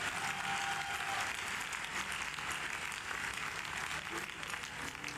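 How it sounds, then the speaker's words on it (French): Congregational applause and acclamation during a church night of worship, a steady, fairly faint roar of many hands clapping that holds evenly across the whole stretch. "Donnez une acclamation au Seigneur"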